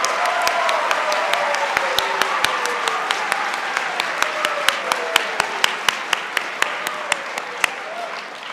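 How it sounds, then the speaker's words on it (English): An audience applauds the six finalists of the 2024 Robert H. Lebow Oratorical Competition, steady sustained clapping from a crowd at even volume, with a few sharp nearby claps standing out and a faint voice underneath. "could we have one more round of applause for all 6 of these?"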